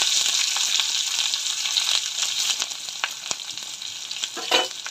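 Onions sizzling in hot oil in a pan for Bengali masoor dal with egg, alongside black cumin and dried chili, a steady close hiss and crackle with faint stirring scrapes.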